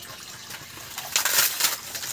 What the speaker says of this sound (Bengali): কড়ার মধ্যে আমি জল দিয়ে দিচ্ছি।